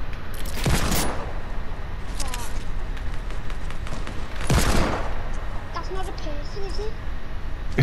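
Fortnite gunfire: sharp shot cracks land near the start and midway, with a constant game din underneath and talking throughout.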